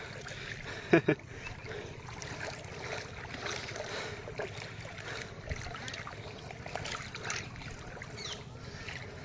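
A small boat glides through floodwater in Assam with a low steady wash and wind noise, a couple of brief knocks early on, no voices.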